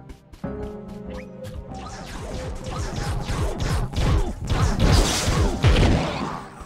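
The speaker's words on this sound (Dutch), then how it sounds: "Maar we kunnen dus dingen kapot maken." Objects smashing apart in the video game Trove, a dense run of crunching, cracking and thudding breaks with swishing strikes that builds louder through the second half, over faint background music.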